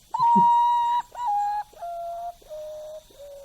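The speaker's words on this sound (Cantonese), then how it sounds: "原來雀都有識唱5聲音階嘅" A bird whistles five clear, pure notes, each held for about half a second with short gaps, stepping downward in pitch and fading gradually, alone and close.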